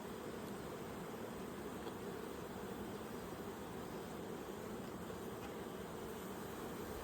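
Honey bees hum in a constant, soft, even drone during a hive inspection, close up and without pause, and no voices are heard.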